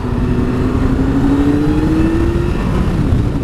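A 2014 Kawasaki Concours 14 motorcycle engine pulls hard under acceleration, a rising tone climbing over heavy wind rush, loud and close to the rider.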